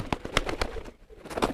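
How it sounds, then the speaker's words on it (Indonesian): Homing pigeon in race training, a few short soft coos and bird calls close by, brief and repeated in quick bursts with a short pause midway. "Lucu juga sih merpati pos diterbangin."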